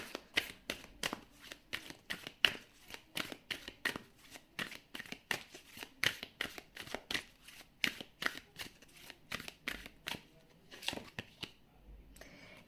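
Tarot cards are shuffled in a rapid, rhythmic series of crisp riffling bursts, close and fairly quiet, repeating steadily throughout with no talking.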